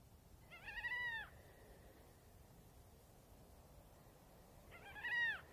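Two eerie, wailing gull cries at night in the Atacama Desert, one early and one near the end, each rising and falling, with a long stretch of quiet hiss between them.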